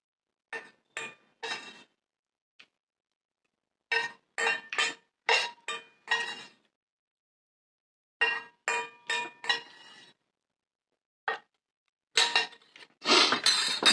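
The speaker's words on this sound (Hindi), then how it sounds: "तो इसको बर्तन को धोता हूँ" Dishes and utensils being washed at home: sharp clinks and clatters of pots, plates and cutlery come in quick bursts separated by quiet pauses, close and crisp.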